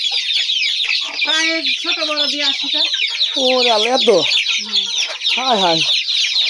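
Domestic country chickens on a farm cluck and squawk in a busy repeated chorus close by, with rising and falling calls over a steady background of more birds, while a person speaks briefly.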